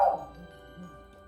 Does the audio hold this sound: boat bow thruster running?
no